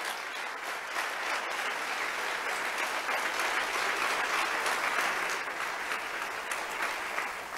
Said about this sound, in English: I think that definitely deserves a well-deserved round of applause.